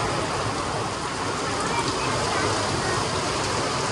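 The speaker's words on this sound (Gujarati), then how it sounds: "વરસાદ તો બંધ થયો જ નહીં" Heavy monsoon rain pours down steadily outdoors, a dense, unbroken hiss that fills the whole stretch at a constant loud level with no pauses.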